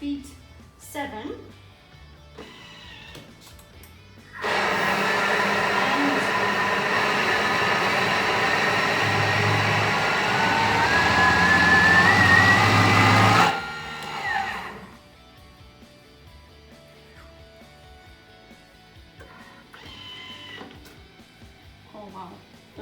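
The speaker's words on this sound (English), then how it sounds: "So I will only start with speed 7." Thermomix running at speed 7 to mix gluten-free bread dough, a loud steady whirring blender roar lasting about nine seconds before stopping abruptly, with quiet talk and kitchen clatter before and after.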